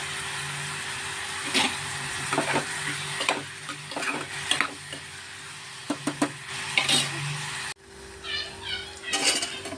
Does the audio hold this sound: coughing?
no